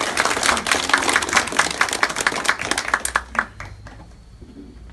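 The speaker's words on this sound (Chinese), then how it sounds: "我们大家用掌声欢迎他们三位" A ceremony audience in New York claps to welcome three lawyers at a legal-consultation signing event, a dense burst of hand claps that thins out and fades near the end.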